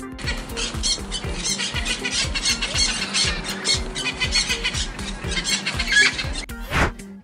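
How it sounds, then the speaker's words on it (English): A parrot squawks within a children's phonics song, shrill calls riding over a steady, bouncy musical beat for several seconds. "P for parrot."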